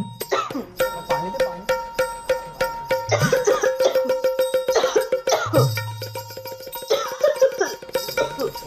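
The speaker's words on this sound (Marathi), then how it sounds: "आणि खोकलात का होत्या?" Repeated coughing from a performer during a lavani dance routine in a Marathi comedy dance-show spoof, loud and close over busy music with steady tonal lines.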